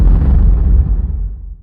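A stock gunshot sound effect: one loud, close boom that bursts out at full strength and then fades into a long, rumbling tail.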